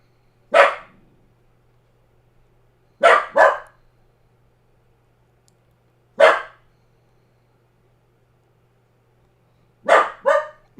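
A dog barks several times in short bursts, some single and some doubled, with quiet gaps between them against near silence.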